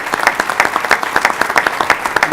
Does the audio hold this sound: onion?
no